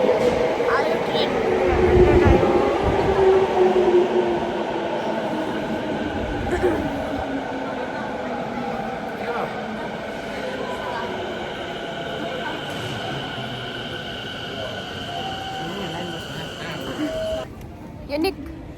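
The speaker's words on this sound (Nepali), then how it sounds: "आयो ट्रेन" An underground metro train pulls into a station, its steady rumble and rail noise filling the platform for the whole stretch while people talk nearby.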